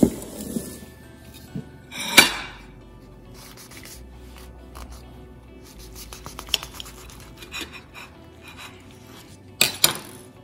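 A knife cuts through a mutton keema egg roll street food, giving a few sharp clinks and scrapes against a plate or board between quiet rustling, with two louder bursts near the start and end.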